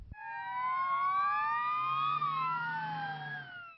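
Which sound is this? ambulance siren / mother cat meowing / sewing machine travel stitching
ambulance siren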